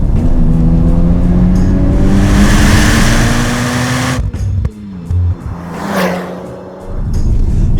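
A Mazda RX-7 Spirit R rotary engine revs hard and close, its steady high-pitched drone climbing through the gears, then cutting out abruptly before a brief blip and a renewed surge of revs.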